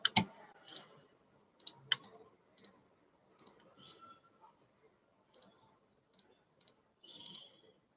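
Faint, sparse computer mouse button clicks, a few sharper ones among softer ticks, in a quiet room with no talking.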